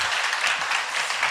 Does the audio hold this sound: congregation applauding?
yes